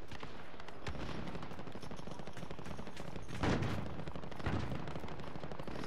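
Gunfire in Call of Duty: Modern Warfare multiplayer, a faint, crackling stream of shots with two heavier thumping bursts standing out, distant and low in level.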